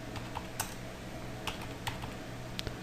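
A password being typed on a computer keyboard: sparse, quiet key clicks at an uneven pace over a faint room hush.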